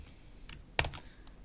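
A few quick keystrokes on a computer keyboard, close and quiet, with one firmer press standing out in a short burst of typing.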